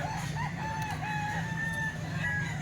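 Golden boy sweater gamecock roosters crow repeatedly at a farm, with several overlapping crows and clucks over a constant low background hum.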